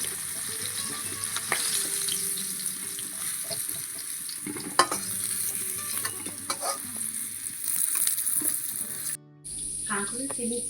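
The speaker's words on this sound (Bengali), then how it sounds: "এইভাবে আমি প্রতিটা সবজি কিন্তু এরকম লাল লাল করে ভেজে নেব।" Spiny gourd (kakrol) sizzles as it fries in oil in a pan, with a steady hiss broken by stirring clatters and a brief pause near the end.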